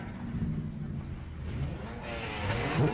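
Demolition derby car engines rev and rumble in a continuous low drone, rising slightly toward the end, with no voices.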